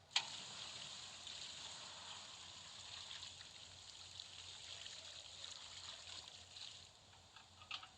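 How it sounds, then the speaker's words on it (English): Water is poured onto a campfire to drown it, giving a continuous hissing, splashing rush with a sharp onset and a few late spatters, fairly faint and alone. "So we got our water over here, and we got our fire here. So we're just going to drown it first."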